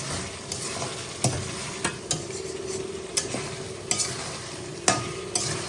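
Bottle gourd curry with meat fries in a pan under a continuous sizzle, with a ladle scraping and knocking against the pan at irregular intervals, close and clear with no talking.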